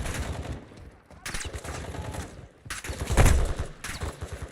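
Rapid bursts of video game gunfire from a shooter match, loud and repeated in clusters with short gaps between volleys.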